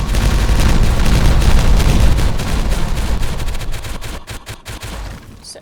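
Explosives detonate in Timberborn as a loud, dense string of booming blasts and crackling bursts that roll on for several seconds, then thin into scattered pops as the rumble fades, with no talk.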